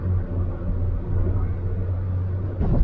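Nissan Micra K11 driving uphill at the national speed limit, a steady low engine and road rumble heard from inside the car, rising slightly near the end.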